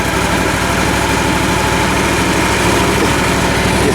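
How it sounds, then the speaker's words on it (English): A warmed-up Toro Z-Master 2000 zero-turn mower engine idles steadily at close range, a loud continuous rumble with an even low throb throughout and no talking. "Let you listen to this engine for a moment."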